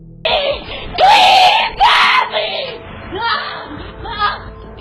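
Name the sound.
woman screaming while grabbed, doorbell camera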